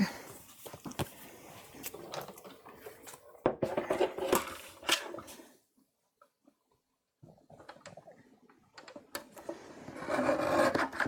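A paper card panel is trimmed by hand during a paper crafting session, giving a series of close scraping and rasping cutting strokes broken by a short quiet pause before more trimming.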